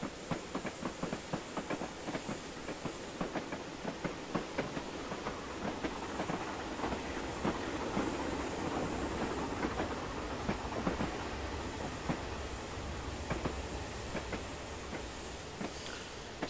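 Robinson O4 steam locomotive on the Woodhead Line in Train Simulator 2015, a continuous rolling rumble with rhythmic clickety-clack wheel beats and a faint steam hiss.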